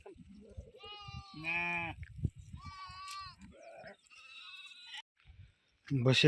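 Sheep penned in a farm field bleat repeatedly in loud, close, harmonic calls spread across the stretch, with someone talking in between.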